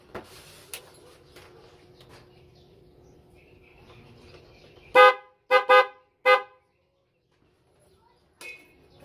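Three loud, close honks from a car's stock horn in quick succession after a stretch of low engine hum and light background noise, followed by a softer short toot.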